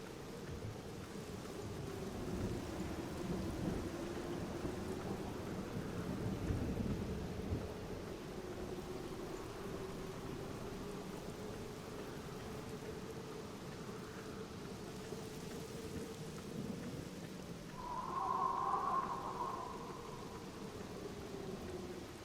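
Steady rain with rolling thunder in The Black Mirror video game, a continuous wash of downpour with low rumbles swelling through, a brighter burst near the end, and no talking.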